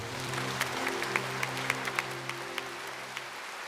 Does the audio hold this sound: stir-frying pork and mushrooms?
no